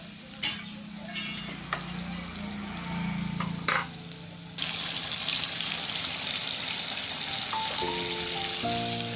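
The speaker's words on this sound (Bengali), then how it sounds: "তো টমেটোগুলো একটু গলে যাক, নেড়ে নিই।" Tomatoes with salt fry and are stirred in a pan, a steady close sizzle broken by scraping stirs and clinks, the frying growing louder midway through, with no one speaking.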